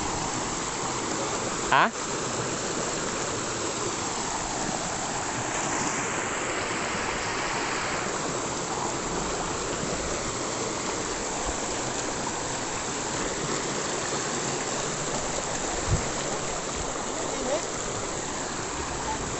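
A strong river current rushes steadily in a broad, continuous wash during net fishing, loud and unbroken throughout. Water splashes now and then, and a voice speaks briefly once.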